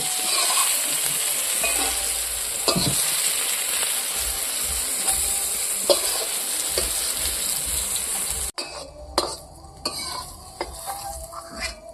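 Black bean fritters season with salt and turmeric as they fry in a pan for an egg curry, a steady close sizzle broken by scraping stirs and clinks of a spatula against the metal, fading after a brief cut.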